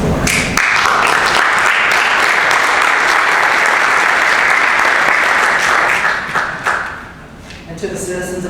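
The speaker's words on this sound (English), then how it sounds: "So I'm going to applaud again because they deserve this award." An audience at a city council meeting applauds award recipients with loud, dense, sustained clapping that fades out near the end as a voice begins speaking.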